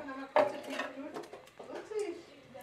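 A metal pot is set down on a home kitchen stove while fish cooks: one sharp, ringing clank near the start, followed by someone talking over faint kitchen clatter.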